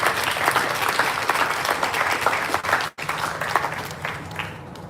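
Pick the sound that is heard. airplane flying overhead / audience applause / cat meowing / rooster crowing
audience applause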